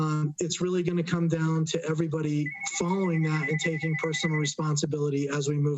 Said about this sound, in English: I'm sorry about that phone call